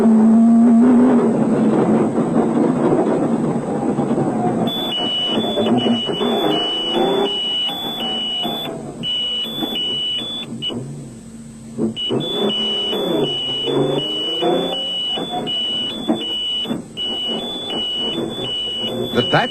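An off-road race car's overtaking alarm sounds as a repeated high electronic beeping pattern over loud engine noise and a commentator's voice, in two bursts separated by a short break.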